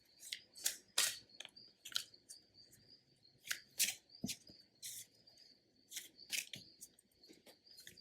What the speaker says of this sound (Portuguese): Agora eu vou tirar uma carta do